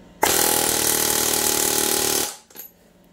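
A Marflow pneumatic air hammer runs in a single loud, close burst of about two seconds, a dense rapid buzzing chatter that stops abruptly, followed by a brief faint clunk.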